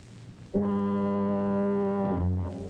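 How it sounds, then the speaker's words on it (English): A deep, steady foghorn blast in San Francisco fog, warning ships off a rocky shore, sounds for about one and a half seconds, loud and tonal, ending in a lower groaning note. "the only sound is the endless bleat of the foghorns, warning ships of a rocky shore"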